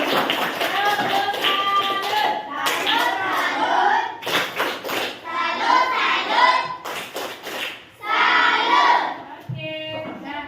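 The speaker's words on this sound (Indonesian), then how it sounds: "kasih tepuk tangan untuk kelompok Gavin" A classroom group claps for another group's presentation, with bursts of hand clapping and taps mixed with lively overlapping chatter and voices.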